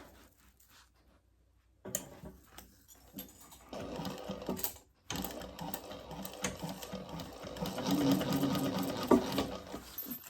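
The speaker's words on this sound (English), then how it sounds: "Now we're going to make it a bigger seam. sew it all together." A sewing machine stitches a seam on a laptop bag. After a near-silent opening it starts up and runs in steady bursts, with a brief pause midway. Close and moderately loud, with no voices.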